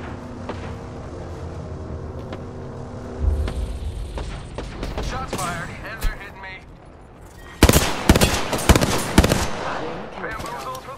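Gunfire in the Apex Legends video game: rapid bursts of automatic weapon shots crackle in clusters, loudest in the second half, over game music and ambient noise, with a voice speaking in between.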